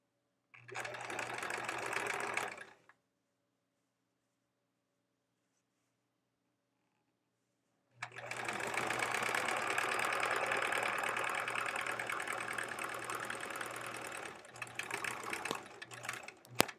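A sewing machine stitches along the edge of quilt fabric in a short close burst, then stops, then runs again in a longer steady whirring stretch with a few brief stops near the end.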